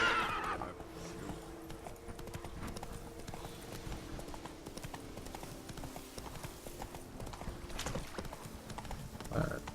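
A horse gallops in The Witcher 3: Blood and Wine video game, its hooves clip-clopping in a fast, continuous rhythm with a whinny at the start, heard close under someone talking.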